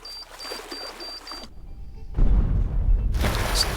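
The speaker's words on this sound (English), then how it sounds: "Explosions still do damage if you're near enough to the blast radius, even if you're underwater" An underwater explosion in the video game Teardown: muffled, watery tones give way to a deep, heavy boom with rumbling low-end churn that lingers, followed by a brighter burst of bubbling noise.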